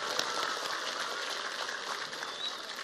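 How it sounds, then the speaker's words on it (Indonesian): A village crowd in Cempeh claps together at an outdoor religious gathering, producing a dense, even patter of applause that holds steady for nearly three seconds with no clear speech. "Tepuk tangan untuk Indramayu."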